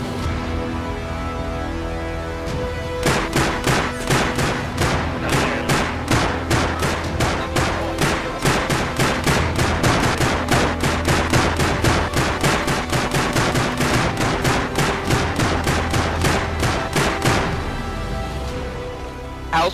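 Rapid automatic gunfire in the game Rust, a long loud burst of evenly spaced shots running for about fifteen seconds, close and continuous with no talking.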